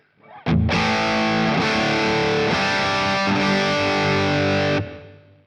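Crunchy overdriven electric guitar chords through the crunch amp model of a Boss Katana, a few sustained strums with a gritty, moderately distorted tone, ringing out before stopping abruptly.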